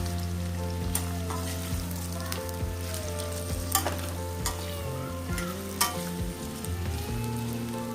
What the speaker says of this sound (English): Now frying the carrots, which I made julienne